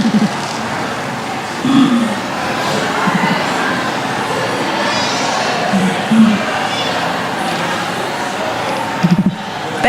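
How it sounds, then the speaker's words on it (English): A large crowd of graduates at a health professions commencement ceremony applauds their families, a loud, sustained wash of clapping that fills a big hall for the whole stretch, with occasional voices mixed in. "giving them a big round of"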